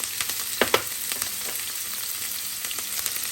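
Onion dropped into hot oil in a pan while making rice with chicken, giving a steady, fairly loud sizzle with a few sharp crackles early on and no talking.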